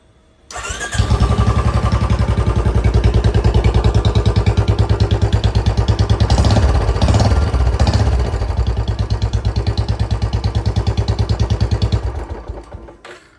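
A gunmetal grey Royal Enfield Bullet Classic 350 with an aftermarket Chota Punjab silencer starts up and idles close by with a loud, deep, steady thumping beat for about eleven seconds before cutting off.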